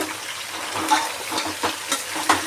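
Mutton frying in a pan for mutton gravy, a crackling sizzle punctuated by several sharp stirring scrapes and knocks at irregular intervals, close and moderately loud.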